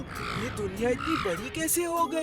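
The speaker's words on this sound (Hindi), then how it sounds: "ये कौवा मेरे पीछे क्यों पड़ा है?" A cartoon crow caws in a Hindi animated show, harsh calls heard under and between a character's excited speech.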